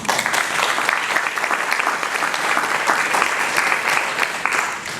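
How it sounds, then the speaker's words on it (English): An audience at a League of Women Voters 75th anniversary event gives a warm round of applause, many hands clapping steadily and fairly loudly for several seconds with no talking. "Let's give them a round of applause."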